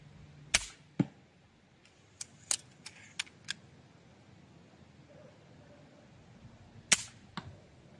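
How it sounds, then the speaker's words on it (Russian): Sharp snapping shots from a Doom Mini Aggregator go off one by one at a target 33 metres away, some faint and some crisp, with thuddy impacts in a quiet outdoor setting. "Давайте вторую серию из 5 выстрелов сделаем."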